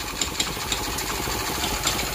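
A Honda Cub CD90 motorcycle engine runs steadily on a test stand, a continuous close idle-like drone with faint periodic ticks and no talk.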